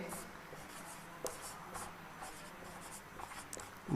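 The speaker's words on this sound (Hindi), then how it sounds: "तो यही लाइन अपने लिख देते हैं" Chalk or marker writing a line on a board during a Class 10 maths lesson, soft scratchy strokes repeating close by, quiet and steady, with brief taps as the stroke starts and stops.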